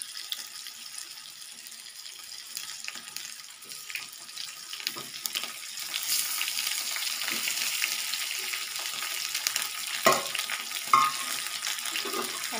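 Stuffed green chillies frying with browned onions in a pan, a hiss and sizzle that builds after a few seconds, with occasional stirring scrapes, close up and without speech.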